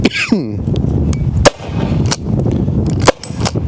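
A Byrna less-lethal launcher firing, with a few sharp, loud cracks spread through the clip over a busy background of handling noise.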